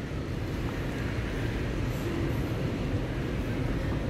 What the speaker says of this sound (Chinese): 这边有一台快速列车通，高铁